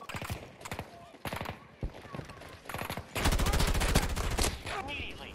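AM40 assault rifle firing in Battlefield 2042: repeated bursts of close automatic gunfire, ending in a long sustained volley, with game sounds and voices in between.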